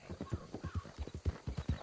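Horse hooves clip-clop in Red Dead Redemption 2 at a steady, rhythmic walking pace, close and fairly loud, with no voices over them.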